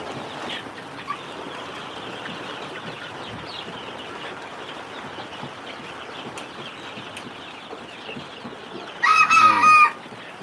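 Egg-laying Misri hens on a farm cluck steadily in a busy flock chorus, with a loud, close rooster crow bursting out near the end.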